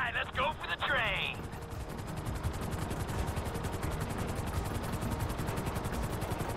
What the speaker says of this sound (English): There's two choppers coming toward my train.